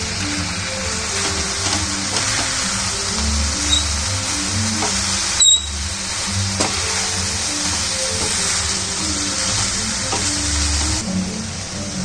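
Chicken curry, a country-chicken saaru, fries in a surgical steel pan as boiled green gram is added, giving a steady, fairly loud sizzle with occasional stirring scrapes and a sharp clatter near the middle.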